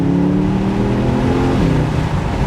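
A Porsche Panamera engine pulls hard under acceleration, a loud, steady drone with rising harmonic tones that shift partway through, heard close from inside the car with no talking.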